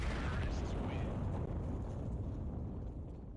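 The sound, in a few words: bomb explosion in the video game CS:GO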